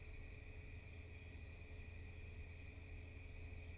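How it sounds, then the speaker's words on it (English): Loud crickets chirp in a dense, continuous outdoor chorus at night, a steady shimmering trill with no pauses and no voices. "stick with just the background noise here of all the crickets, loud crickets that we have"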